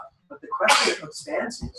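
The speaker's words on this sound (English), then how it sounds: "It's the triune nature of sneezing." A person sneezes loudly once mid-sentence, a sharp burst with breathy wind-up, set between bits of nearby speech.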